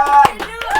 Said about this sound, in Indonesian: tepuk tangan dulu dong untuk Nathan dong, luar biasa.